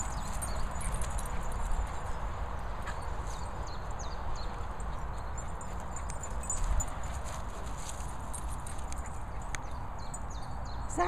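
Horse hooves clip-clopping at a steady walking pace on a hard surface, continuous and moderately close over a broad outdoor background noise.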